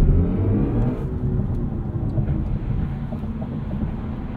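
A 2022 BMW i4 M50 electric car pulls hard at full throttle, a steady loud whir and rush of road and wind noise building without pause, with no one speaking.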